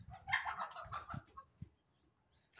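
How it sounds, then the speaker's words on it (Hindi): A desi rooster gives a quick run of soft clucks and low throaty calls, fairly close but quiet, before trailing off into near silence. "ये अपना मुर्गा"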